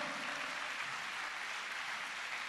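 Congregation applause at a church general meeting, a dense uniform roar of clapping from a large crowd, steady and loud throughout with no voices standing out.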